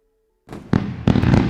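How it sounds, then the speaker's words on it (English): A fireworks sound effect bursts in after a brief silence: crackling pops followed by two louder bangs and a sustained fizzing crackle, close and alone. "We forgot the fireworks."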